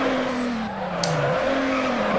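A Subaru drifting through a turn in the Need for Speed Underground racing game, steady engine drone with tire squeal and skidding, the pitch dipping then rising again, loud and close.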